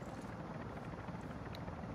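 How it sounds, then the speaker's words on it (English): A helicopter in a shooting video game gives a steady, dense rotor drone that stays constant and fairly close, with no talk over it. "What is that helicopter right here?"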